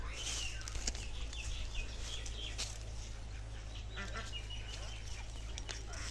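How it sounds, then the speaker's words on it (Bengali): Ducks playing by a pond on a cool, breezy riverside farm, their quiet quacks faint and distant over a low steady wind rumble. "এই যে হাঁসগুলো কত সুন্দরভাবে খেলা করতেছে"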